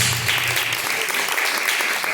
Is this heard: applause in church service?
yes